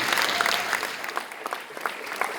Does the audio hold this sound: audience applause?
yes